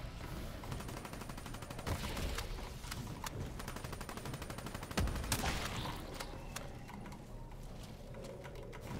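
Dense game gunfire from a Call of Duty Zombies match, with sharp sniper-rifle shots cracking over a steady wash of noise and chaotic action, a heavier blast near the middle, no talking.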